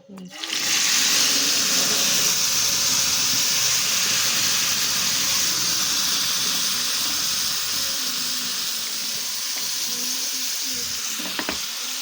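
Steady, loud sizzling of lentils tempering in hot ghee, a continuous crackling hiss with no talking.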